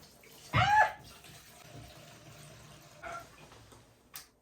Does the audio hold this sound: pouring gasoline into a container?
yes